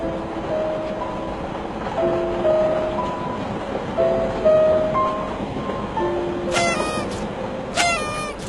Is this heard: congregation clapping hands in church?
no